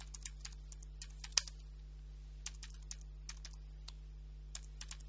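Fingers type on a computer keyboard in quick, scattered clusters of light clicks with short pauses, quiet and close over a constant low electrical hum.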